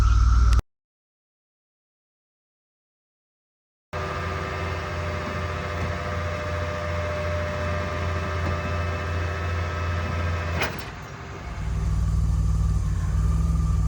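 DeLorean engine idling with a steady low rumble, broken by a few seconds of silence, then running on before a sharp click and a change in tone as it shuts off and a deeper hum takes over.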